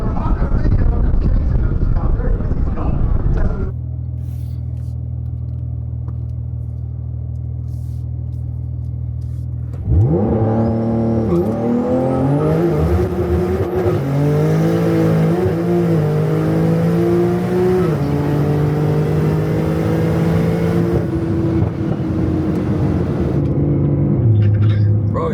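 A 1500bhp Porsche 992 Turbo S launches on a drag run, its engine roaring and climbing through several gears after a quieter idle. It is loud and sustained, and voices are heard before and after the run.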